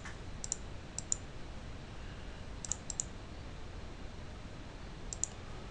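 Sharp mouse clicks in small bursts, mostly pairs, over a quiet steady hiss with long pauses between them.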